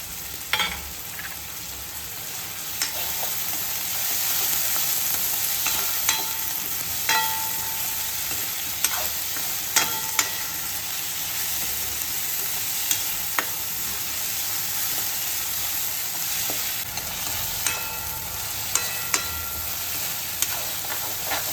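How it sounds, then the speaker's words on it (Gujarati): Capsicum stir-frying in a pan with Maggi noodles and vegetables, a steady close sizzle throughout with occasional scraping stirs and small pops, no voices. "હવે એમાં કેપ્સિકમ પણ ઉમેરી દઈશું."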